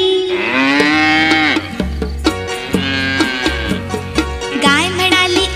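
A cow moos several times in long, drawn-out calls over a steady musical backing, loud and close throughout.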